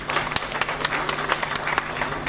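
An audience claps for an author at a book-signing ceremony. The applause is moderate and uneven, with a few sharper individual claps standing out above the crowd.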